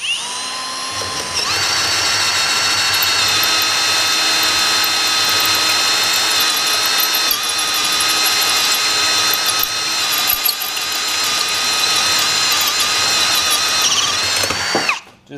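A power drill fitted with a hole saw whines loudly and steadily for a long stretch, its pitch wavering slightly as it cuts, then stops abruptly at the end.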